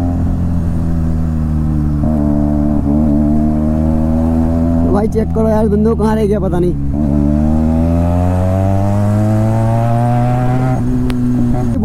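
A Benelli 300 motorcycle fitted with an aftermarket exhaust idles loudly and close, with a rising rev mid-way before settling back to a steady throbbing rumble, while someone talks over it.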